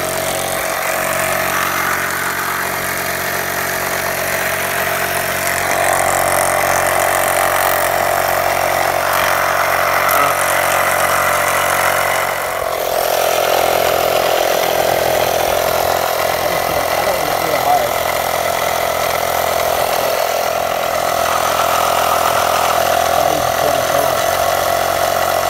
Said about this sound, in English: This is about a 25-pound air compressor.